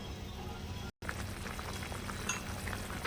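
Soraka rasam simmering on low heat under a lid, a steady soft bubbling and faint sizzle running continuously, with a brief cut of silence near the start.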